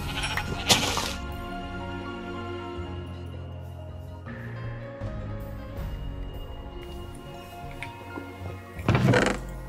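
Sheep bleating in the Minecraft video game, a couple of short game calls set inside a busy mix of music, clicks and other in-game effects.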